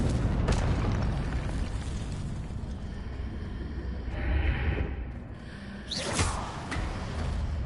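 A Confringo explosion spell in a wizarding video game, heard as a muffled boom with rumbling bursts and a sharp whooshing blast near the end over low background rumble.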